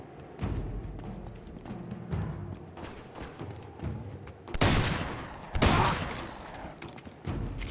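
Gunfire in the video game Uncharted 2, repeated shots and bursts throughout with two loud, dense volleys in the middle, some thudding impacts mixed in.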